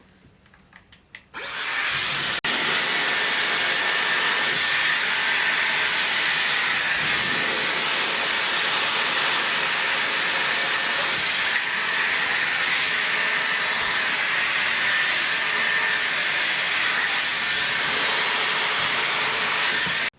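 Dyson Airwrap blowing hair dry at the roots, switching on after a moment of quiet into a steady, loud rushing hiss of airflow that holds unbroken to the end.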